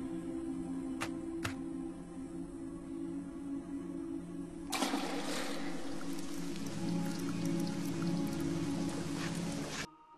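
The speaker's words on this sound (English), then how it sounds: "We get the sound of the pebble hitting the water to transition us into the pouring rain on the other side of the window as Coraline dynamically fades back indoors." A pebble dropping into well water with a couple of brief splashes, then a sudden switch to heavy pouring rain against a window, a dense loud wash that cuts off abruptly near the end, from the film Coraline.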